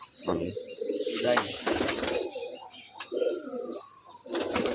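White roller pigeons cooing close by, soft repeated low coos and burbling calls with a few sharp chirps, under background voices.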